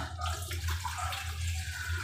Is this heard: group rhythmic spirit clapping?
no